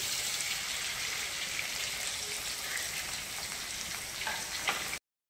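Chopped carrot and beetroot fry in hot oil in a wok, giving a continuous, even hiss and crackle with a few louder pops before it cuts off abruptly.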